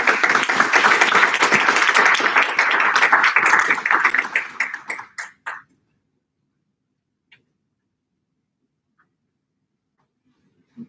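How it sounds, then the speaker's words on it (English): A round of applause at a council meeting, dense clapping from a modest group for about five seconds that thins out and stops, followed by near silence with a couple of faint knocks. "give her a round of applause"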